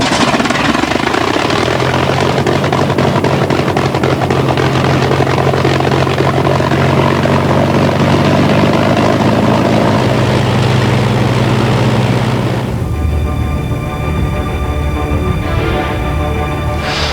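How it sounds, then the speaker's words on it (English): Avro Lancaster bomber at RAF St Athan running its four propeller engines before takeoff, a loud steady drone with low throbbing hum that drops off and changes tone near the end, no talk. "Lancaster aircraft, 5 people on board. The rescue teams are on standby. Everything is set for takeoff."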